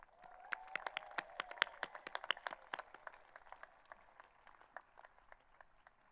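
Applause for retiring faculty at a college commencement ceremony: a fairly quiet, dense spatter of individual hand claps from an audience, strongest early and gradually thinning out toward the end.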